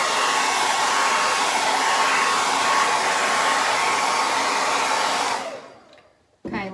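Hair dryer drying chalkboard paint on a painted school sign, a loud steady close blowing roar that winds down and cuts off near the end, followed by a short thump.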